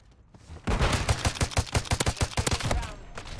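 Rapid video game gunfire in a dense string of close, loud shots after a brief quiet start, fading out at the end.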